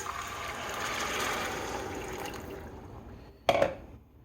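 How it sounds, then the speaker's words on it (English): Hot water is poured into a pan while making chili mac from a boxed mix, giving a steady liquid rush that fades, followed by a brief clatter near the end. "Then you stir in the water, which is 2 3/4 cups of water"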